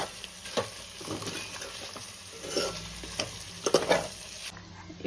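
Chicken curry with salt and turmeric is mixed in a pan, producing close scraping and clattering spoon strokes over a soft steady sizzle with no talking, ending abruptly.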